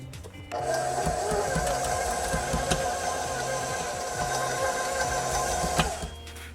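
An electric mixer beats gingersnap cookie dough in a bowl, a steady close motor whir with a rhythmic thumping churn that starts abruptly and runs evenly for about five seconds before stopping.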